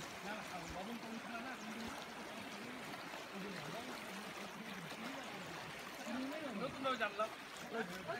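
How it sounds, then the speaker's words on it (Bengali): Steady continuous rush of river water flowing past eroding banks near a riverside bungalow at Kodal Basti, Chilapata, a constant close wash of sound beneath a voice talking. "এখানে জলের একটা কন্টিনিউয়াসলি শব্দ হতে থাকে"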